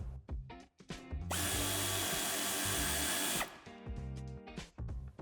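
A power tool whirs steadily for about two seconds as it undoes a hidden nut on a 2015–2019 Audi A4 sedan, with close mechanical clunks and handling noises before and after.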